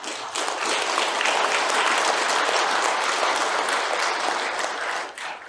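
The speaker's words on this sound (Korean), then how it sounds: "여기 동참하신 모든 분들께서 박수 한번 쳐주시기" Seminar attendees at a Buddhist pilgrimage event break into full, close applause, a dense steady clatter of many hands lasting about five seconds before tapering off.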